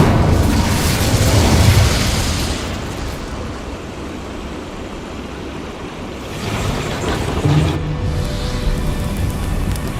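An Incendio fire spell cast in the Hogwarts Legacy video game, a whooshing burst followed by a sustained roaring, crackling rush of flame, swelling again toward the end with no talk.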